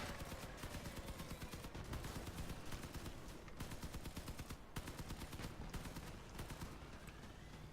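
Rapid gunfire from a vehicle weapon in the Crossout combat game rattles in dense bursts over loud, continuous battle noise, with short gaps between the tap-fired volleys.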